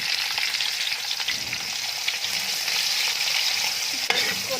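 Chopped onions fry in a pan for a Bengali cauliflower and fish salan, with a loud, continuous hiss of sizzling oil and occasional scraping stirs throughout.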